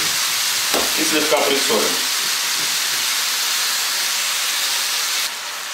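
Pieces of red fish fry in a pan with a loud, steady hiss and sizzle throughout, while a voice speaks briefly early on.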